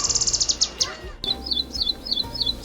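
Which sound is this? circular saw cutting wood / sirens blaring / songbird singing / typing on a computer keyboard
songbird singing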